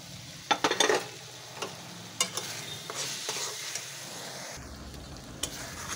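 Ground spices sizzle and fry in a hot pan for a cauliflower and meat curry, with a steady crackling hiss broken by loud scraping stirs near the start and again later.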